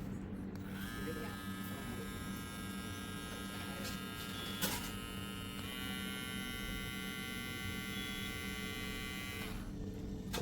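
A Hatteker G75 electric hair clipper runs continuously with a steady high-pitched motor buzz and hum, close up, shifting pitch slightly midway as if changing speed, then cutting off near the end.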